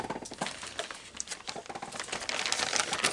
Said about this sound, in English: wrapping some presents